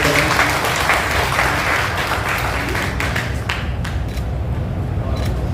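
Loud, sustained applause from an audience at a housing cooperative federation event welcomes a guest, a dense steady wash of clapping holding for several seconds with no pauses.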